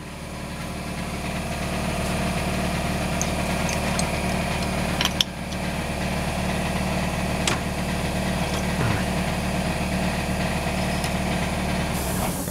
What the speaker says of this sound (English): And you can show how it's chucked up for the on the bearings. And then we spin it.